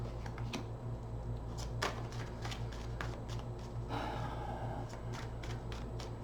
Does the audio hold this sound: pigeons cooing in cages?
no